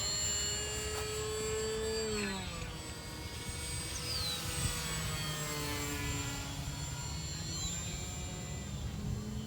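Small Durafly Goblin electric RC racer plane flying and coming in to land, a steady high whine of the motor with pitch sweeping as it passes and circles, fairly distant and continuous outdoors.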